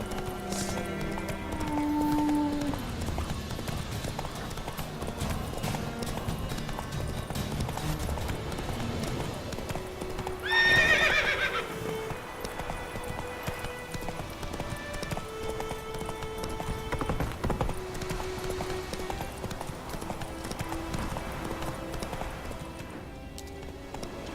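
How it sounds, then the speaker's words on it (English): A horse gallops steadily in the video game Witcher 3, its rhythmic clip-clop hoofbeats running throughout at an even pace over a layer of game music and ambience, with one brief louder whinny-like burst midway. "I forgot that the horse really does a really good job of following the trail."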